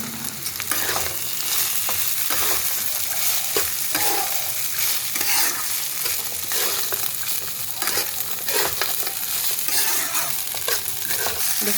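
Washed flattened rice with spices and peanuts is stirred in a hot pan for poha, producing a loud, continuous sizzle layered with steady scraping and tossing sounds.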